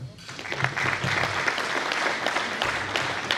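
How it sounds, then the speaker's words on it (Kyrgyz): Audience at a Kyrgyz genealogy gathering breaks into warm, sustained applause, a dense field of many hands clapping steadily at close-to-moderate distance for several seconds. "Ушу байысканга кол чаап койсок."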